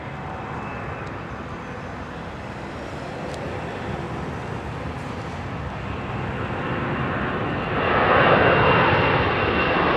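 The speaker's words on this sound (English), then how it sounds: "Look at the number 2 engine ingesting all that moisture." A US Navy C-20 jet at Anchorage spools up for takeoff in wet conditions, its engines taking in moisture. A loud, continuous, close roar builds and swells stronger toward the end, with no voices.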